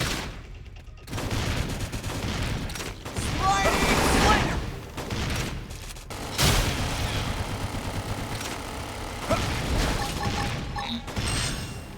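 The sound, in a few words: gunfire in a battle, from the video game Xenoblade Chronicles X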